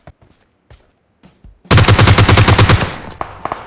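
Video game gunfire rings out as a loud, rapid burst of automatic shots lasting about a second, followed by a few scattered fainter shots, after several quiet clicks and taps at the start.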